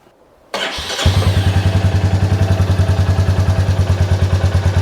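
A Royal Enfield 350 single-cylinder motorcycle with a DNA air filter cranks over and fires up, then settles into a loud, steady thumping idle with an even, rapid pulse, close up and without talk.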